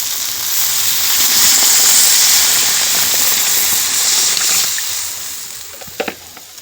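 Broth poured into a hot pan of fried potatoes and fish gives a loud, broad hiss that holds steadily for several seconds, then fades, with a couple of sharp clanks near the end.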